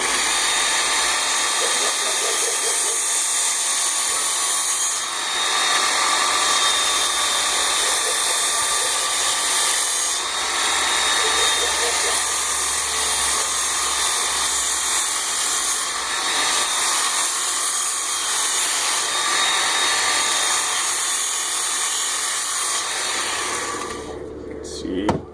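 A Work Sharp power sharpener grinds a bevel on an axe, a loud, continuous high-pitched whir with slight surges as the blade is moved, cutting off at the end.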